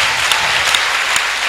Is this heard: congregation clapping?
yes